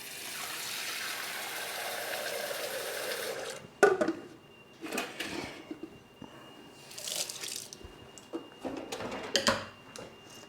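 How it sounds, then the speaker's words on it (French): Water poured into an emptied Thermomix mixing bowl, heard as a steady close pour and splash that stops abruptly, followed by sparse clinks, drips and handling knocks in a quiet kitchen. "je mets de l'eau dedans en attendant"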